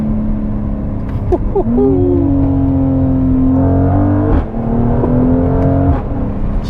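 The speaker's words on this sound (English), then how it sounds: "It sounds like a V8 with the cracks, the pops." A 2021 Mercedes-AMG GLC 43 V6 engine revs up and holds a high, steady whine, with sharp cracks and pops from the exhaust punctuating it, loud and close.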